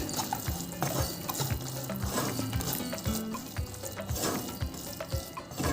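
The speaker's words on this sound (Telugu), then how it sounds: "ఇప్పుడు ఒక రెండు స్పూన్లు నెయ్యి వేసుకుందాం కొద్దిగా జీడిపప్పు పిస్తాపప్పు బాదం పప్పు మూడు వేసాను" Cashews, pistachios and almonds frying in ghee give a steady sizzle and crackle, overlaid by repeated scraping and stirring knocks from a spoon in the pan, close and continuous with no talking.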